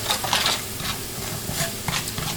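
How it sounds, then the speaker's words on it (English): Garlic cooking in a pan alongside beef with thyme and onions, a close, steady sizzle broken by brief stirring scrapes and bursts of crackle. "I'm just letting the garlic cook"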